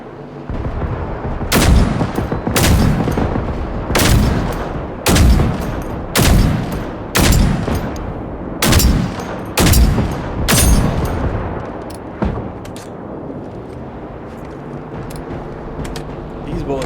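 Rifle fire with FMJ rounds in the video game Generation Zero: about ten loud, sharp reports spaced roughly a second apart, each trailing into a short rumbling echo, followed by a quieter stretch near the end.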